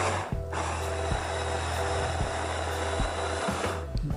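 An electric burger maker appliance runs steadily with a loud, continuous motorized hum and a few brief clicks, with no talking.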